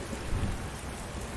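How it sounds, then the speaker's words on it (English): Steady rain with rumbling thunder from the JVX graphics mod in American Truck Simulator, a dense continuous downpour with low thunder rolling underneath, filling the short stretch with no voices. "this is the JVX graphics mod, which makes the rain and sounds of the thunderstorms more realistic"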